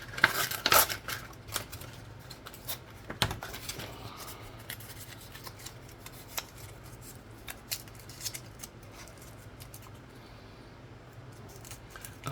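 Sandpaper rubbing the edge of a ring made from a German 1 Mark coin, a close, quiet scratching with irregular light strokes and occasional sharper scrapes, louder at the start and then steady.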